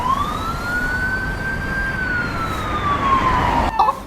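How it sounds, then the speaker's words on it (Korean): An emergency vehicle siren wails in one long rising-and-falling sweep over the rumble of heavy road traffic on a busy Korean road at Chuseok, loud and close, ending with a brief clatter. "여러분 차 소리를 들리나요?"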